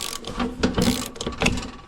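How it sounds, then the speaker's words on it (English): A small one-handed ratchet wrench clicks in short rapid bursts while being worked on a John Deere 4020 tractor, close and fairly quiet, with no talking. "But I have a little ratchet. Please don't fall off. It's one-handed."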